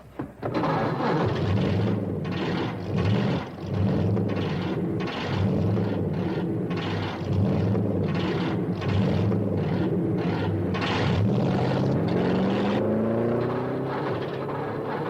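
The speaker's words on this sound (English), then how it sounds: "Gentlemen, start your engines." Car engines start and rev at a racecourse, a steady, loud mechanical drone with repeated pulsing surges and a rising rev near the end.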